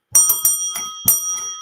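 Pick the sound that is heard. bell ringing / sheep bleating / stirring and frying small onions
bell ringing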